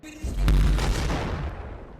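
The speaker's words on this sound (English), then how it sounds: "Here in episode 62, the full video had the usual explosion sound." Cartoon explosion effect from a Skibidi Toilet episode, a single heavy deep boom that hits sharply and rolls off into a fading rumble, loud and alone.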